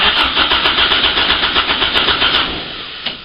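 With the coil lead disconnected, a lithium-ion battery spins an engine over on the starter: a loud, fast, rhythmic cranking whirr for about two and a half seconds that then cuts off, followed by a single click.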